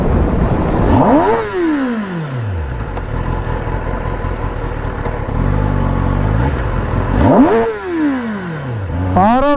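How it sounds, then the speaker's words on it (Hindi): A Kawasaki ZX-10R motorcycle engine revs hard on a street, with swooping rises and falls in pitch near the start and again near the end, over a steady engine drone and traffic noise. "power of Z x ten are"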